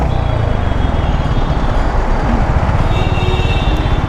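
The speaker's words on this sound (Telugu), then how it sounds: "ఏందిరా నాయన ఎంత ఉంది ట్రాఫిక్." Heavy road traffic near a mall, a loud continuous roar of engines and tyres with a bus or truck passing close, no voices.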